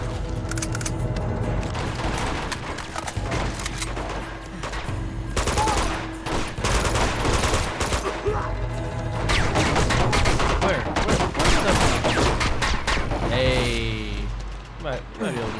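Dense gunfire in the action game Uncharted 2: Among Thieves, loud rapid bursts and single shots in a near-continuous firefight with crashing impacts, while someone talks over the shooting.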